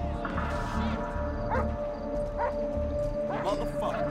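A dog barks in GTA 5 in a few short yelps over steady game ambience and a constant hum, fairly faint against the background.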